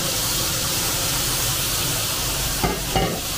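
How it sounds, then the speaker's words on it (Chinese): Chopped tomatoes hit a hot wok of scallions fried with five-spice powder, a loud steady sizzle and hiss throughout, with a couple of soft scraping knocks near the end. "炒出香味儿后，倒入切好的西红柿"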